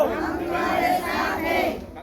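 A crowd of Shiv Sena (Shinde faction) supporters cheers and shouts at a celebration in Chandanzira, Jalna, in a steady, dense roar of many voices that holds throughout.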